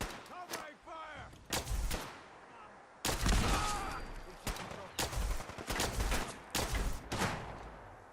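Gunfire in the video game Fallout 4 comes in loud, close bursts of shots and heavy blasts, separated by short gaps, with a voice shouting at points between volleys.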